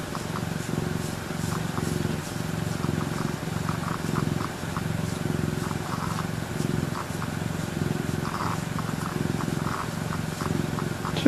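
A pet cat purrs steadily and close by in a rhythmic, continuous rumble lasting the whole stretch, with a soft higher hum layered above.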